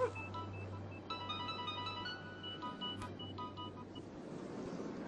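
A telephone ringtone plays faintly in short repeating electronic tones over a steady low hum in the room, with no one speaking.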